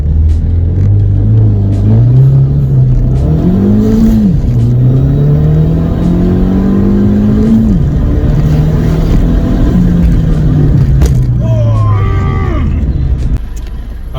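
A car turning around and accelerating, with a loud, close engine rising and falling in pitch through gear changes and a brief mechanical rattle near the end; the bumps are not clearly separated from the steady engine roar.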